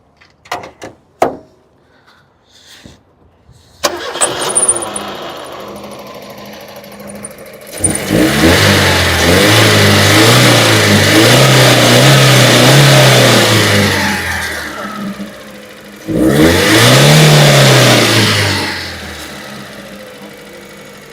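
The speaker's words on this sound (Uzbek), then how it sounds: "Agar iloji bo'lsa yoqib bitta motorni ham ko'raylik, Ismoilga bir minut ushlab qo'ying." A propane-fuelled car's door clunks a few times, then the engine cranks and catches, idling before revving loudly for several seconds, dropping back, and revving again in a second shorter burst, recorded up close with no voices.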